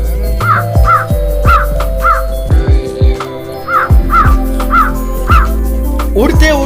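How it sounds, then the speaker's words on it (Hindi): A cartoon crow caws repeatedly and loudly as it flies off, a run of harsh, evenly spaced calls over a music bed. "कहते हुए ये कौवा वहां से उठ गया।"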